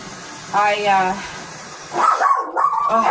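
A dog barks and yips a few times nearby, with a short burst early on and a longer run of barks near the end.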